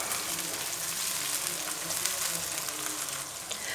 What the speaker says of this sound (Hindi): आप डालेंगे 1 बारीक कटा हुआ टमाटर और प्याज को दोनों को फ्राई करेंगे।